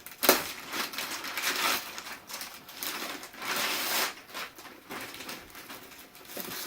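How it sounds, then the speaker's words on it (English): Packing tape cut and peeled off a DJI Mavic Pro drone box, close crackling and tearing bursts in uneven waves, with a sharp snap near the start, and no speech. "So let's go ahead and cut this tape to it. Or peel it off, that works too."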